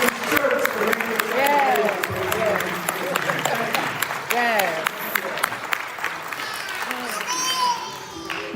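A crowd at a local council district candidate forum applauds the candidates, a moderate patter of clapping mixed with voices, children's chatter and a crowd murmur throughout.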